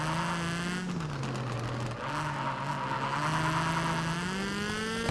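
Polo rally car from the game Gravel driving hard with quick gear changes, its engine droning steadily with pitch shifts as it shifts up and down, loud and continuous with no talking.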